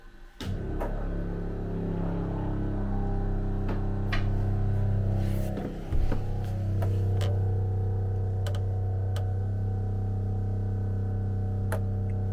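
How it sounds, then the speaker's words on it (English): On a narrowboat being renovated, a water pump runs with a steady low hum and a few sharp clicks scattered over it, close and fairly loud. "Water pump."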